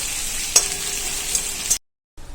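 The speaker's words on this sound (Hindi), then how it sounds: "अब चलिए अच्छी तरह से चला लेंगे और प्याज को भून लेंगे हल्का गुलाबी रंग आने तक।" Onions fry in a pan for a jackfruit seed curry, producing a steady close hiss with a couple of sharp clacks from stirring, then the sound drops out abruptly before resuming briefly.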